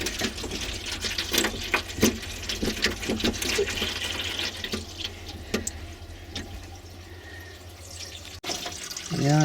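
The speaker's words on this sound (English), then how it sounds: "Water's coming through." Water sputters and runs from the sink tap of a VW Autosleeper Clubman GL campervan as the pump pushes air out of the lines, giving an uneven gurgling, spitting flow that is close and fairly loud throughout.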